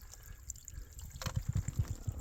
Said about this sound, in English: A little bit of water flow in here.